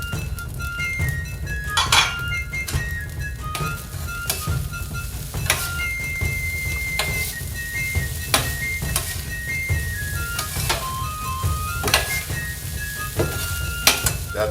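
Green onions sizzle on a Vevor 22-inch 1600W electric flat top griddle, a steady soft hiss punctuated by repeated light metallic clinks and scrapes of a spatula against the cooking surface.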